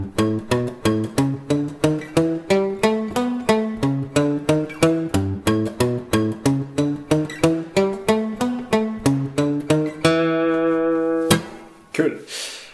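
A guitar in a beginner lesson plays a longer melody of steady plucked notes at an even pace, closing on a sustained ringing chord and a final strum.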